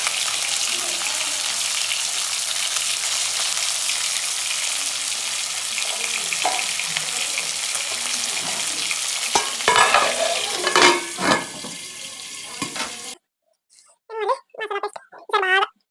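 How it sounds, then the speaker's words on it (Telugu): Chicken leg pieces frying in hot oil on a high flame, a loud dense sizzle with stirring clatter that stops abruptly, followed by a few short sounds in near silence. "మంచిగా అట్టంగా ఉప్పించి ఈసారి ఎక్కువసేపు ఫ్రై చేసుకుందాం."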